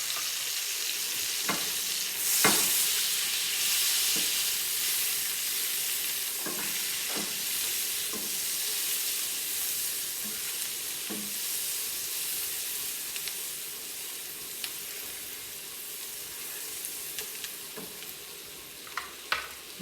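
Chopped garlic frying in hot oil in a pan while a utensil stirs it, a steady close sizzle with scattered sharp scrapes and clicks of the spoon against the pan, no voices.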